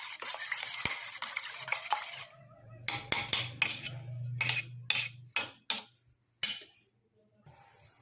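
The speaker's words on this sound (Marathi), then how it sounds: "थोडं मीठ टाकून ते कालवून घ्यायचं" A spoon repeatedly stirs and scrapes inside a bowl as eggs are mixed with chili powder and salt, giving a run of short clinking, scraping bursts that stop and start, close by with no talking.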